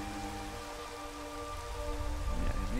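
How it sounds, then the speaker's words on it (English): Steady rain hisses continuously in Minecraft, a dense even patter that swells slightly toward the end, heard alone under faint game tones. "It's a rainy day."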